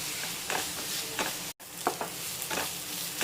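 Onions with a little salt are stirred in a pan for a samosa filling: a soft background sizzle with several scraping strokes of the spoon at irregular intervals and one brief dropout in the middle.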